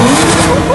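A Toyota Camry's exhaust revs loudly and close up for a moment, a rough buzzing drone that climbs in pitch, with a voice speaking over it.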